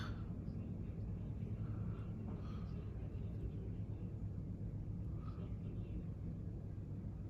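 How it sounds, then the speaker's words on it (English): A Dash 8 Q400 airliner coming in to land at Sydney Airport makes a faint, distant, steady low rumble that continues without a break. "another Dash 400 on the other runway, just about coming into land"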